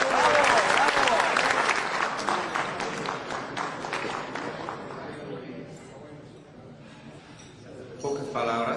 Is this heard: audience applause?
yes